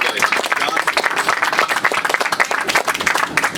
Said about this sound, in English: Clem, let's give him a round of applause.